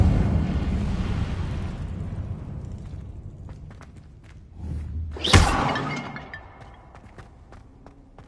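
Incendio fire spell cast in a Harry Potter video game: a deep rumbling rush fades, then a sharp burst flares with a crackling whoosh that trails off, followed by a few soft thuds.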